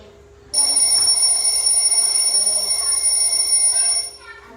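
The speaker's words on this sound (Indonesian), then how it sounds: "Biasanya jam beker itu dipakai di setel kalau mau bangun." A mechanical alarm clock bell rings continuously and loudly for about three and a half seconds, then stops abruptly.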